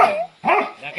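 A dog gives two sharp, loud barks close to the listener, the second one longer and slightly whining, with a brief gap of quiet between them.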